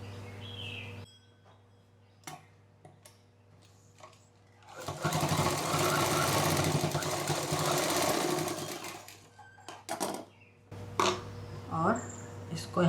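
A sewing machine stitches a fabric strip made from leftover fabric pieces, running in one steady burst of roughly six seconds between quieter handling noises and brief clicks, with speech before and after the run.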